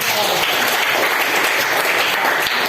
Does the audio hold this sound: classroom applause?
yes